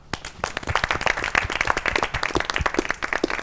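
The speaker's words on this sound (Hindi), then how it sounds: "जो 5 लोग अभी तक बैठे रहे अपने लिए तालियां बजाएं" Applause from a small group of reality-show contestants, dense, steady clapping throughout at close range with no talk over it.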